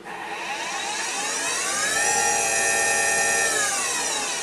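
A Tormach PCNC440 milling machine spindle runs up to full speed, its high whine rising in pitch, holding steady, then beginning to ease off, loud and close with no talking.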